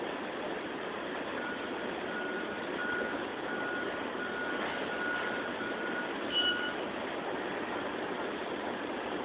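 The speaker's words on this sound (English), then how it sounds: "But I see a pretty good sized box truck now." A good-sized box truck reversing in Lakeland, Florida, its back-up alarm beeping a few times at a steady interval over a low idling engine, heard at a moderate distance.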